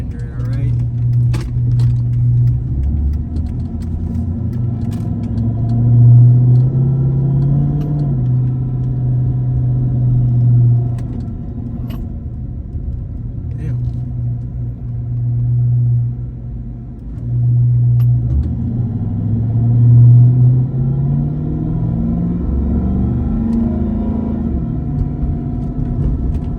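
A Stage 2 cammed, tuned 5.7 Hemi V8 car engine held near 3,000 RPM in first gear gives a loud, deep, continuous drone that swells and dips in pitch several times, with a lumpy, throbbing edge.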